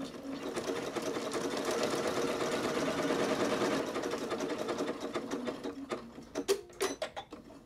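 A sewing machine stitches a seam on knit sweat shorts, running in a steady fast whir for several seconds, then slowing into short bursts and clicks as it stops and restarts, close and alone.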